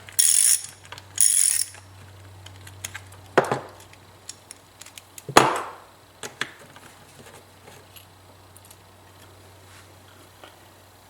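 A ratchet with a 1/4 inch socket works on a lawn mower carburetor, giving short bursts of rapid clicking followed by scattered metallic clicks and knocks, close and fairly loud, no talking.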